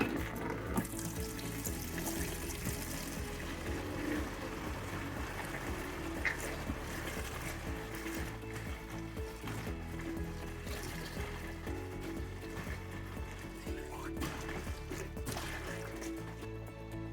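Homebrewed pale ale wort pours steadily into a bucket, a continuous splashing rush of liquid that holds a constant level throughout with no talking.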